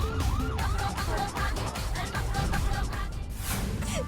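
A police car siren wails in a rapid, repeating up-and-down sweep, loud and continuous with engine rumble underneath, ending in a brief burst of noise.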